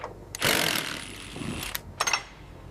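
A ratchet tightens a connection on a military recovery truck, giving a close burst of rapid clicking pawl strokes followed by a couple of shorter clicking pulls.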